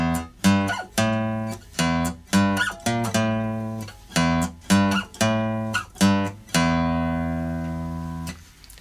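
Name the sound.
Riff played on guitar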